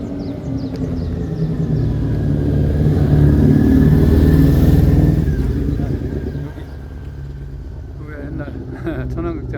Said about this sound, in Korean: 잠깐 오토바이 좀 지나가고요.